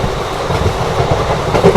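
Vande Bharat train running at speed after accelerating, a loud close rumble with rolling wheel clatter heard from on board, no talk.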